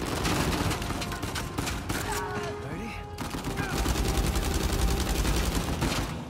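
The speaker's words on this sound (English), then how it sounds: "So we just dodging bullets now." Gunfire from the video game Uncharted 4 rattles continuously in dense bursts and rapid machine-gun volleys, loud and close, with brief quieter gaps and mechanical clanks between the shots.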